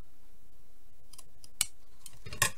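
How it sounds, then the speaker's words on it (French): Scissors trim excess paper from a handmade card in two or three crisp snips, close and sharp against a quiet room. "je vais prendre mon ciseau pour enlever tout ce qui déborde"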